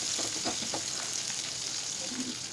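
Curry leaves and green chillies frying in a pan for spicy kuzhi paniyaram batter give a steady close sizzle and crackle, with a few brief stirring clatters early on.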